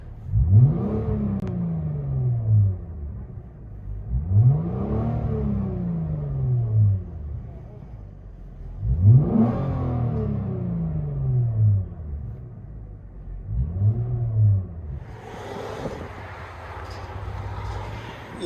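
A 2018 Lexus GS 350 with a 3.5L V6 and rear muffler delete, heard from inside the cabin, revs four times in a steady rhythm, each a smooth rising and falling exhaust swell, followed by a softer hissy tail.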